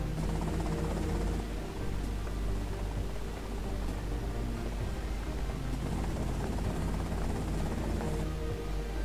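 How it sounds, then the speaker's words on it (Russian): A helicopter in the video game GTA Vice City The Definitive Edition gives a steady, loud rotor and engine drone with dense rumbling noise that holds throughout, with no talk. "вот их вертолет"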